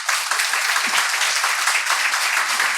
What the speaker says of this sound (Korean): 우리 더원 사랑의 교회의 사랑의 마음을 모아 박수로 환영하도록 하겠습니다.